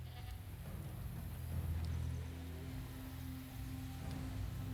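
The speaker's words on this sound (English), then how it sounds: "Goat." Goat bleating in the dinosaur park game Jurassic World Evolution 3, a faint, wavering bleat buried in a dense, steady background of game ambience.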